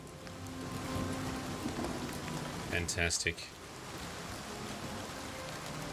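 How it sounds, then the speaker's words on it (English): Steady rain falls across water in the game Oblivion Remastered, a constant hiss of drops spread evenly over the whole stretch, with a brief burst of sharper sounds near the middle and a voice speaking over it. "The rain hitting the water."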